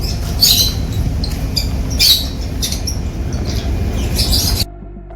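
Parrots squawking in Bageecha Garden in the Maldives: harsh, loud calls burst out repeatedly over a constant, dense background of chatter and noise, cutting off abruptly near the end.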